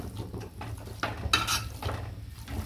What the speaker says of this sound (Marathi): जो आपण मसाला परतला होता ना तो पण छान असा मॅश करून घेऊया।